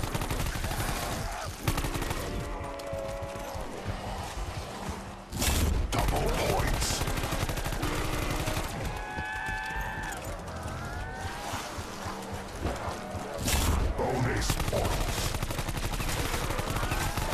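Rapid automatic gunfire in Black Ops 4 Zombies, dense continuous bursts of shots mixed with game music and effects, loud and sustained, with character voices speaking over it.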